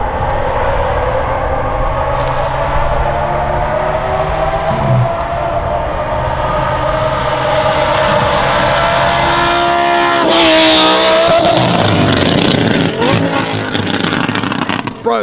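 A Lamborghini fitted with a Valvetronic Designs exhaust, rebuilt toward an F1-car style, revs loudly and steadily, its pitch climbing in long sweeps before a sharper roaring burst near the end.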